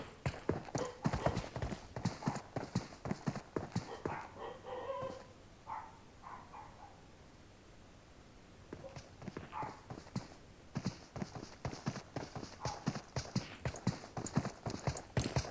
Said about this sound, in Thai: ต่อไปวิ่งด้านหลัง ไปด้านหลัง ไปข้างหลัง ไปข้างหลัง